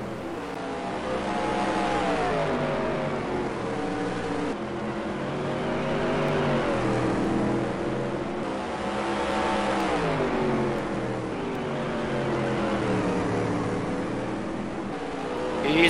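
Supermodified race cars roar around the Sandusky Speedway oval, engines droning loudly and continuously with rising and falling pitch as the cars circle past, no voices over them.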